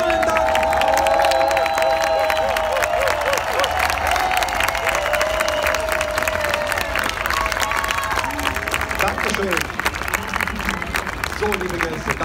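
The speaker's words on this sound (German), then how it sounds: "da hat es jemand verdient, dass wir nochmal richtig klatschen" A large outdoor crowd at the Kölner Lichter 2017 fireworks show in Cologne applauds and cheers steadily after the display, with dense clapping, scattered whoops and voices throughout at a loud, sustained level.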